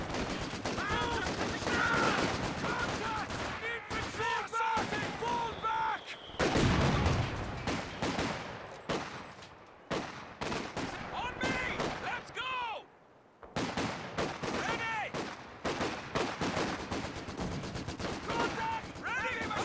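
Machine-gun fire and other gunfire from the World War II strategy game Company of Heroes 2, rapid bursts of shots repeating throughout amid battlefield noise, with a voice talking over the action.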